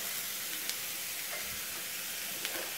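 Chopped onion and carrot sizzle steadily in a hot frying pan, a continuous broadband hiss with a few faint clinks, without speech.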